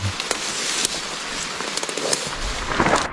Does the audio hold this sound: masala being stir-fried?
no